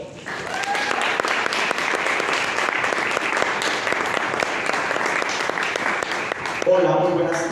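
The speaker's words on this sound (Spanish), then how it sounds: "Recibamos con un gran aplauso a Uriel." Sustained applause from an audience greeting a speaker at a TED-style talk, steady dense clapping filling most of the clip before fading near the end as a voice begins.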